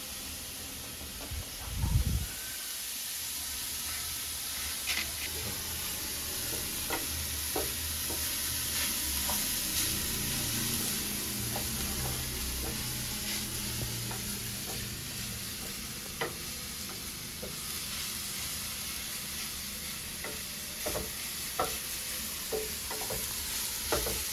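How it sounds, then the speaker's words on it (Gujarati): Grated beetroot is stirred in a pan over a low flame with a soft, continuous sizzle and hiss, punctuated by occasional utensil taps and a heavier thump near the start. "બીટના ભૂકાને હલાવતું રહેવાનું."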